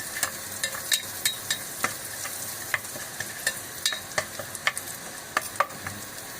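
Onions and green chillies sauté in a pan for paneer butter masala, with a steady close sizzle broken by frequent sharp clicks and scrapes of a spoon stirring, and no voices.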